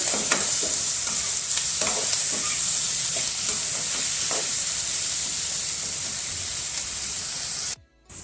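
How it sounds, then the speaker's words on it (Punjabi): Masala roasting with tomatoes in a pan, a continuous hissing sizzle broken by repeated stirring scrapes, close and steady for several seconds before cutting off abruptly near the end. "ਟਮਾਟਰ ਪਾ ਕੇ ਲੋਕ ਲੈਣ ਤੇ ਆਪਾਂ ਮਸਾਲੇ ਨੂੰ ਭੁੰਨ ਲਵਾਂਗੇ 5-7 ਮਿੰਟ ਵਾਸਤੇ"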